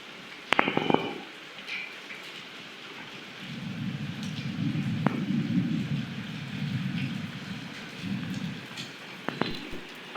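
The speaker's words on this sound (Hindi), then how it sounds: "रात के टाइम ना बहुत तेज़ बारिश होना जो है वो शुरू हो गई" Heavy night rain comes with thunder, a sharp crack followed by a long low rumble and a later crack, over a constant hiss of rainfall.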